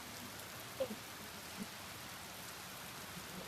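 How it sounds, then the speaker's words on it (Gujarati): Steady, even rain hiss fills the clip, with a couple of brief louder drips early on and no voices. "તમે જોઈ શકો એમાં વરસાદ કેટલો ફાસ્ટ આવે છે"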